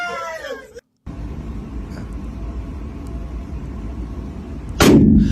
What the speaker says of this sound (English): He's firing a 44.